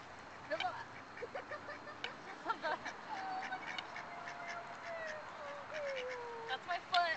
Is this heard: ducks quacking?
yes